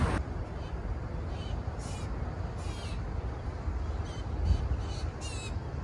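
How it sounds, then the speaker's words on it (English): Blue jays call from a tree, several harsh, scratchy cries scattered through the clip at moderate distance over a steady outdoor background hiss. "So we've got baby bird action all over the place. We've got blue jays up here."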